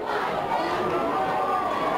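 Crowd chatter fills the stands at a high school football rivalry game between Central Kitsap and Olympic, a steady, dense murmur of many voices at moderate distance with no single speaker standing out.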